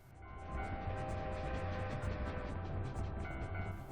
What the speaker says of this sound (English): You can wait for the train to pass by!